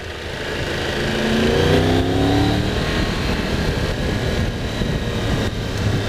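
A Triumph Tiger 1200 GT Explorer motorcycle engine accelerates, its pitch sweeping upward through the gears with steady loud engine and wind noise throughout.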